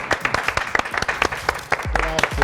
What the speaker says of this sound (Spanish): Un aplauso a mi Samantha, bravo, por favor.